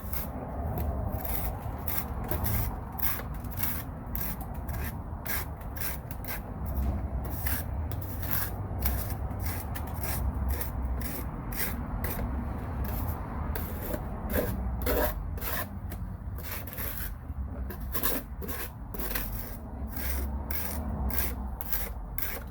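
Yttrium oxide powder is scraped out of a container with a tool in rapid repeated strokes, a rhythmic rasping and rubbing that goes on steadily and sits close and fairly quiet, with no talking.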